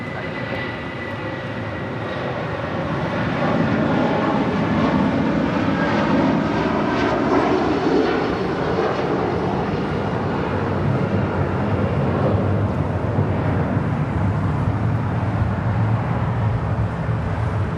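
Heavy jet airliner taking off from runway 25 right at LAX, a powerful engine roar that builds over the first few seconds and then holds loud and steady.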